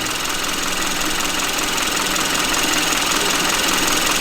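A Hyundai Avante MD GDi, a 2011 model with about 120,000 km, idles with a loud, steady engine drone and a fine ticking rattle, close up and without voices.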